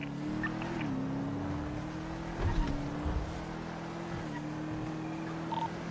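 Engine drone of a police car driven in a GTA role-play game, a steady mid-pitched hum that rises and shifts gear several times, close and continuous with no talk over it.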